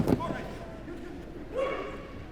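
A 9-year-old dog at a British Open agility jumping competition at Crufts gives a sharp bark at the start, then a softer yelp later, with an indoor crowd murmuring beneath.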